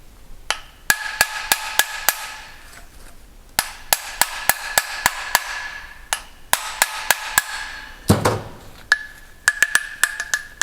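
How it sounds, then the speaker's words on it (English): A hammer taps repeatedly on a car propshaft universal joint to free it up, with quick bursts of sharp metallic strikes separated by short pauses and one heavier thud, close and clear with no talking. "we're going to give that a tap with a hammer and it should loosen up"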